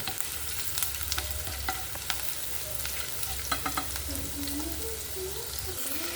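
Garlic, ginger and a green chilli fry in oil, a steady bright sizzle with low background hum and occasional spoon scrapes and taps clustered midway, close by, with no speech over it.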